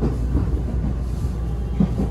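A Sanyo Main Line train runs on rails, heard from on board as a steady, deep rumble with faint rhythmic rail noise underneath.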